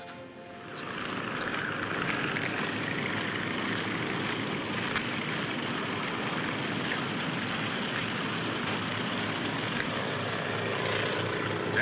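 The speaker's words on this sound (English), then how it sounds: "Gentlemen, this is an airplane." Propeller airplane engine from a 1942 wartime film, a steady loud droning roar with a rough buzzing texture that holds evenly throughout with no speech.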